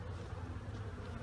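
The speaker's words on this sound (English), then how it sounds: "Lots of bees." Honey bees buzz at an open 8-frame medium hive during an inspection, a dense steady hum of many insects, faint and unbroken with no voices.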